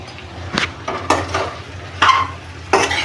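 Sabudana khichdi being stirred in a pan, several separate scraping strokes of a spoon against the metal, close and fairly crisp with short pauses between them, no talk.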